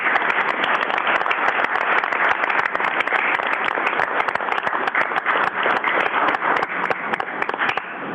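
People at a city council meeting applaud the winners with dense, continuous clapping that stays steady and fairly loud throughout, with no speech over it.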